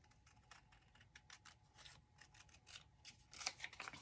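Scissors trim a small strip of paper, making a quick series of crisp snips. The cuts are quiet and close, bunch together toward the end, and come alone with no talking.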